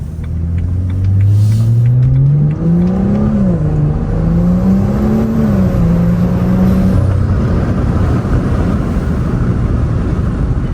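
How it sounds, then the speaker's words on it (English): A loud turbocharged BMW N55 engine with an ARM Motorsports short intake revs up and down with a rising whir, then lets off into a rushing, noisy release. "a lot more turbo noise too of it just letting off"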